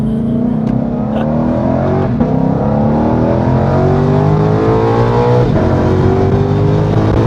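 Ford Mustang GTD V8 accelerating hard on the road, heard from inside the car as the engine note climbs through rising harmonics, with a brief shift around the middle; loud and continuous, no talk.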